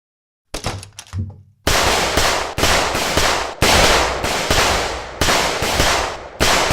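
Cartoon gunfire: after a brief quieter sound at the start, a rapid run of loud, sharp bursts cracks out repeatedly in uneven clusters, close and dense, with no talking.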